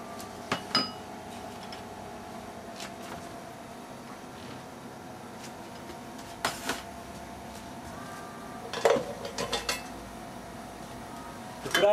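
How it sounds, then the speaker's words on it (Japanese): Olive oil and bacon going into a frying pan for carbonara: sparse light clinks and knocks of a pan and utensils over a quiet kitchen background, with no voices. "はじめにフライパンにオリーブオイルとベーコンを入れます。"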